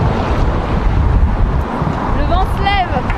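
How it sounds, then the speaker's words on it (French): Strong wind buffets the microphone outdoors around the Louvre in Paris, a steady loud rumble. Faint voices are heard near the end. "Le vent se lève."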